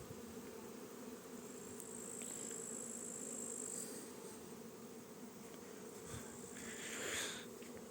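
Dense, continuous buzzing of many Carniolan honeybees flying out of hives outdoors, a steady swarm drone that swells slightly at times.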